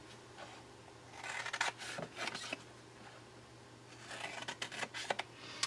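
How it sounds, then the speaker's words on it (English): Scissors snipping through paper box flaps up to the score line in a papercraft project, with short bursts of crisp cutting and rustling, close by and quiet. "we're just going to cut up to the score line"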